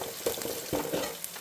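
Crushed green chillies frying with ginger in a hot pan for pineapple pickle, a steady sizzle with a few sharp scraping stirs, close and moderately loud.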